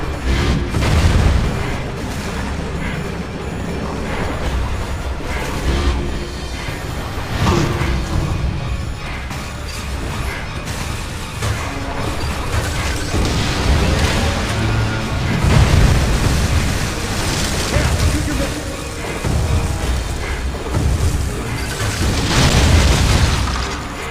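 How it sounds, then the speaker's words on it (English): Missile explosions in the video game Metroid Prime 3, a dense run of heavy booms and bursts that repeat throughout, loud and close over a continuous rumbling din. "I have to use my missiles on the other side of it."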